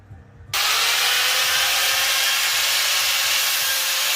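A power grinder wears down metal on a car body on a Honda H22 CB7 track build, a loud continuous high-pitched grinding whine that starts abruptly after a brief quiet moment and holds steady close to the mic.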